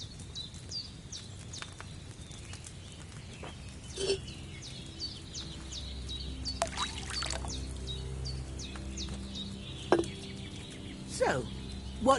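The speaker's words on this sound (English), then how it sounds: "First, you have to pour the right base into the cauldron." Wine poured from a pitcher into a cauldron in Kingdom Come: Deliverance II, a soft liquid trickle under quiet ambience with scattered bird chirps and animal calls, plus a few brief clunks.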